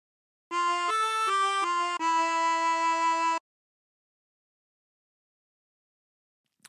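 A 24-hole tremolo harmonica plays a short phrase of a song: five quick wavering notes then one longer held note, bright and close, followed by silence.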